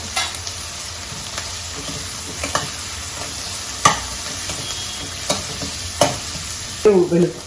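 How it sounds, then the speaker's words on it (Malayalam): Curry leaves and garlic sautéing in oil for a salmon coconut-cashew curry: a steady, close sizzling hiss with a few soft spoon scrapes and knocks, plus a cluster of stirring clatter near the end. "കുറച്ച് കരിവേപ്പില, പിന്നെ കുറച്ച് വെളുത്തുള്ളി. നന്നായിട്ട് നമുക്ക് വഴറ്റിയെടുക്കാം."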